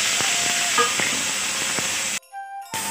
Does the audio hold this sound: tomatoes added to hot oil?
yes